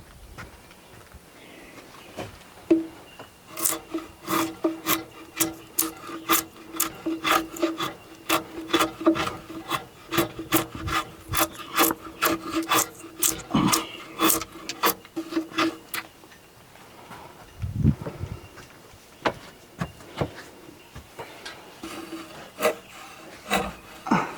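A timber framing tool is sharpened with a rapid run of regular rasping strokes, each a crisp, close scrape, followed by a few slower rubs and a knock, with no talk.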